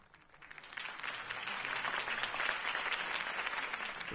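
Applause from a large crowd in Batman: The Telltale Series swells quickly and holds steady, a dense wash of clapping with no voices over it.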